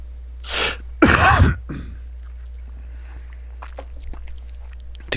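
A sharp, close sneeze at a desk microphone during a live stream: a quick intake and a short burst, then a louder explosive burst, followed by quiet room noise and faint rustles.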